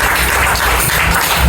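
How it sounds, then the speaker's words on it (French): Audience applause at a product testimonial event, dense continuous clapping at steady loudness throughout the short moment. "Applaudissements bien lourds."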